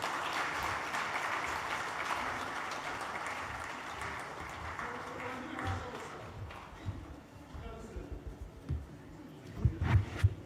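Audience applause for the chief executive of the Ghana Gold Board at a public address on legal mining, a broad steady wash that thins out midway into scattered claps and muffled voices.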